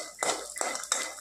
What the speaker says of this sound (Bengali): তাই আমি এখন এখানে একটু বাদাম ভেজে নিচ্ছি